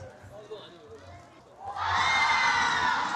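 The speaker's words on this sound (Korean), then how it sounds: "박수 나오고 이렇게 체육대회를 하는 것 같습니다" A crowd erupts into loud, sustained cheering, clapping and shouting at an outdoor neighborhood sports day in Sinheung 1-dong, South Korea, after a stretch of quieter background chatter and voices.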